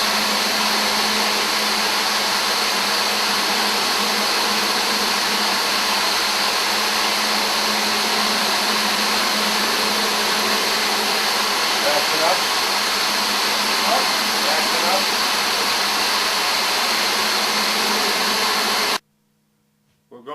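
A concrete grinder with 70 grit metal bond diamonds drones loudly and continuously, a steady broadband roar with a low hum that cuts off abruptly near the end.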